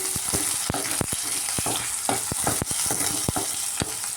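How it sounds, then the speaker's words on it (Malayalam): Cumin seeds, curry leaves and green chillies sizzle and crackle in hot oil, with a dense steady hiss broken by sharp pops and spatters throughout, close and fairly quiet. "നല്ല ജീരകം ഇട്ട് കൊടുക്കാം, കറിവേപ്പില, പച്ചമുളക്."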